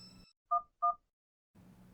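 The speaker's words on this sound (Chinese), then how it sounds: "我现在就打电话" Two short, clear telephone keypad tones beep in quick succession, with faint background noise before and after.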